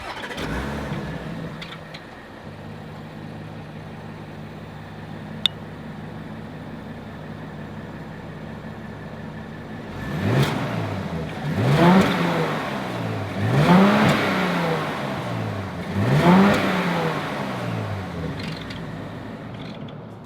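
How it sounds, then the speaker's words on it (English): A 2026 Audi A6 engine idles low, then revs sharply four times in a row, each rev rising and falling, close to the exhaust. "As always, here is that exhaust clip."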